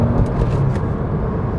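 A V12 BMW 7 Series drives along at slow speed, its engine a loud, steady, close low rumble with no voices over it.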